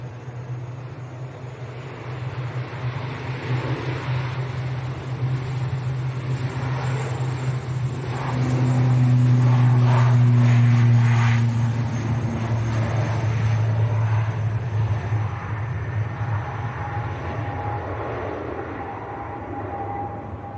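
An Aer Lingus ATR 72 turboprop departing Manchester Airport for Belfast produces a steady droning hum with a strong low tonal whine that swells and peaks mid-way, then eases, heard alone without talk.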